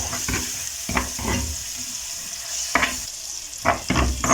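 Garlic cloves fry in a pan with a constant sizzle, broken by several loud scraping stirs of a spatula at irregular intervals, close up and without speech.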